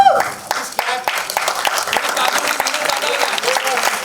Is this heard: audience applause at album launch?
yes